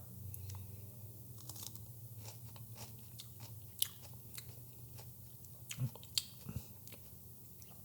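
Someone bites into and chews a firm fermented Sichuan hot pepper (pao jiao), giving quiet close crunches and wet chewing against a low steady hum with no talk.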